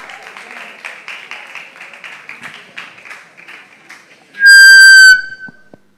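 An audience at a national investment quiz competition gives steady, moderately loud clapping. Near the end, a single sharp, piercing whistle cuts through for about a second before the applause fades.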